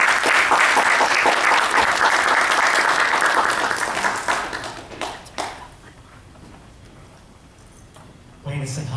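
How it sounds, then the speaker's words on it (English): A conference audience at a Guam university event breaks into loud, dense applause that holds steady for several seconds, then thins into scattered claps and fades to near quiet before a voice resumes. "Everyone, please give a round of applause to Dr. Thomas Christ"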